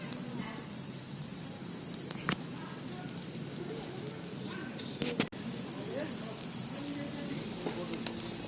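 Chicken grilling over an open fire with leftover masala poured on top, giving a steady moderate sizzle and crackle with occasional sharper pops, close by and continuous throughout.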